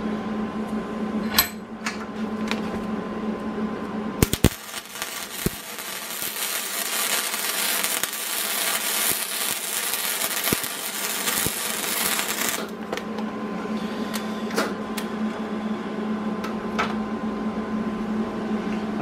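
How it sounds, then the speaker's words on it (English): Metal is welded onto a shop light with a steady, close crackling hiss that flares louder for several seconds in the middle, broken by a few sharp clicks. "I can go ahead and weld the rest of this on."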